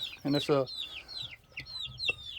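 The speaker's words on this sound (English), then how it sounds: "Wyandotte rooster right there." A Wyandotte rooster gives low clucks alongside high chirping from chicks nearby, while someone briefly speaks over the birds.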